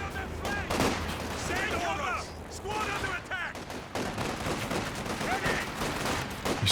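Mortar and gunfire in the Company of Heroes 2 strategy game, a 3v3 match on a Rhine map, come as dense overlapping blasts and bursts throughout, under a commentator's talk.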